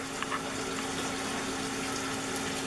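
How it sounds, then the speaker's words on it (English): Water runs steadily from a kitchen tap as a hand is wetted before salting pretzels, a continuous close splashing rush with no talk. "So I'm just going to get my hand a little bit wet"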